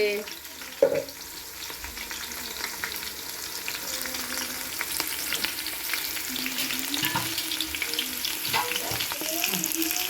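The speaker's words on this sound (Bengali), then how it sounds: "এই দেখো, একটু পেঁয়াজগুলো ভাজা হবে।" Onions fry in a pan for a vegetable biryani, a soft steady sizzle broken by scraping stirs of a spoon against the metal, close and moderately quiet with no talking.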